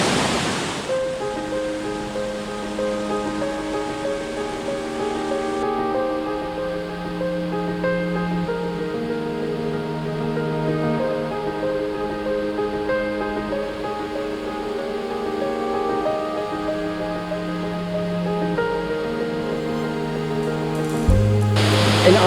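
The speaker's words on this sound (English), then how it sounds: "This is Sangara waterfall behind me." Sangara waterfall on Iriomote Island roars in a steady, loud, broadband rush of falling water that continues without a break, with a tonal hum running beneath it.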